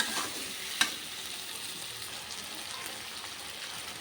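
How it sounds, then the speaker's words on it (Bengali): Paneer and spices being stirred and fried in a pan for a Bengali home-style paneer dish, with a steady broadband sizzle throughout and a single sharp scrape or clink of the spoon early on, no talk. "পনিরগুলো ভাজা হয়ে গেছে, আমি এবার মশলাগুলো দিয়ে দেবো।"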